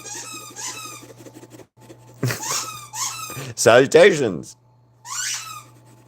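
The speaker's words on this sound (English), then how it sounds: "It's Ziggy with his squeaky toy." A pet named Ziggy squeaks his new squeaky toy in repeated, high, close bursts, mixed in with a person talking nearby.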